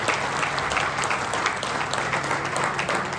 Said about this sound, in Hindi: सभी से निवेदन की तालियों की गड़गड़ाहट के बीच उनका स्वागत है।